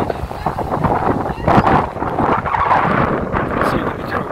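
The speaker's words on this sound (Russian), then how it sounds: "Сильный ветерок сегодня почему-то не дает." Strong wind blowing across an open seaside beach near a fishing village on the Black Sea coast, a steady roaring buffet on the microphone with gusts, while a person talks over it.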